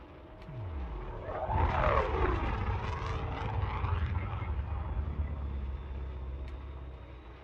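Spaceship engine throttling up in Elite Dangerous Odyssey, a low rumbling roar that swells and sweeps upward in pitch, then holds as a steady drone, moderately quiet and without talk.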